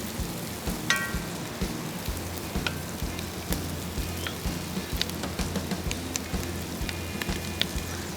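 Whole garlic cloves sizzle and crackle in a pot for a chuck roast Italian beef recipe, a soft, steady frying hiss with scattered small pops.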